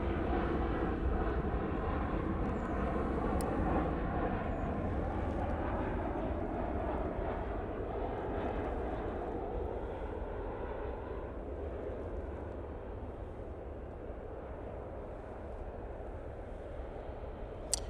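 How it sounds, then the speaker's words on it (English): A Ryanair Boeing 737 comes in to land at an airport, its broad engine roar loud and steady throughout, easing slightly toward the end with a low rumble underneath. "Ryanair 737 now coming in"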